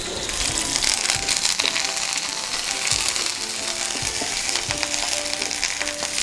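Small onions and curry leaves fry in hot oil for a Kerala fish curry, giving a dense, continuous sizzle and crackle close up, with occasional soft clinks underneath.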